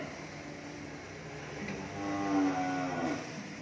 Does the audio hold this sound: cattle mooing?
yes